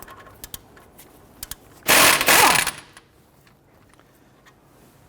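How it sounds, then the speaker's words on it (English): An impact gun loosens a 19mm brake caliper bracket bolt on a Nissan Frontier, one loud, harsh burst of under a second, close up, between faint clicks and handling sounds in an otherwise quiet garage. "Now we got our lower bolt out with our impact gun"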